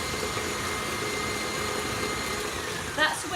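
An electric hand whisk beats a chocolate orange brownie mixture of cocoa powder, with a steady, loud motor whir running throughout and a brief clatter near the end.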